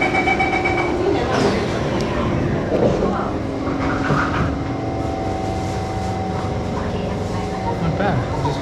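A Singapore Metro train carriage in motion, with a steady loud rumble, rattling and tonal whine throughout, doors having just closed; speech in the background.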